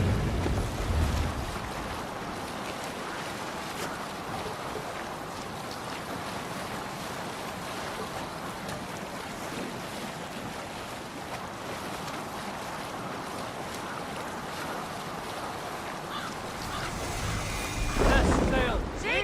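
A sailing ship out on the open sea in Assassin's Creed Valhalla, with broad rushing water, wind and wave wash continuing steadily, swelling briefly near the end.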